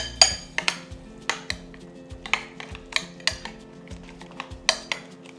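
Feta tzatziki with cucumbers, mint and dill being mixed in a bowl, giving a steady run of close utensil clinks and scrapes against the dish at an irregular rhythm, with no talk.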